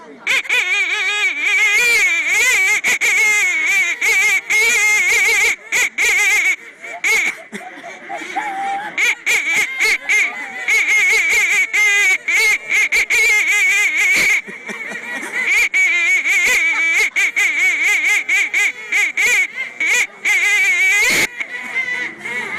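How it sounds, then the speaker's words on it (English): Crowd of ducks quacking and honking loudly and continuously in Brighton, a dense, busy chorus of overlapping calls close by that goes on throughout. "I hear the ducks arriving."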